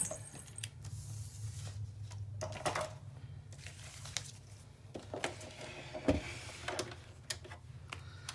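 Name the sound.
sewing machine stitching fabric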